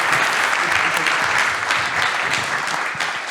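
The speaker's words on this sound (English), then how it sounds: "Let's have a warm round of applause there." An audience at a conference lightning-talk session applauds, with dense, steady clapping that holds throughout, loud and close.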